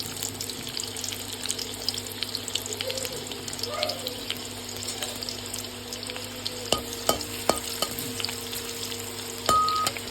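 Onion frying in oil with dried chilli and five-spice tempering for a greens curry, a low steady sizzle with scattered clicks and stirring knocks over about ten seconds, no speech.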